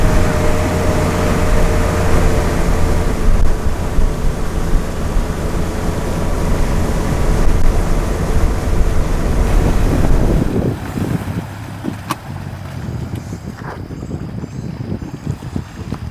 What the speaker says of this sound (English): Here comes another boat.